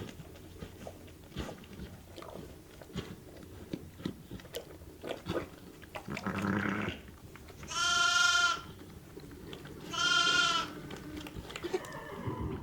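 Pregnant ewes close to lambing, held in a hay barn on a sheep dairy, let out three loud bleats in quick succession amid quiet rustling and chewing.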